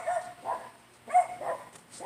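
Dogs bark in short, repeated bursts, fairly close and loud, with whimpery yips between the barks and no talk over them.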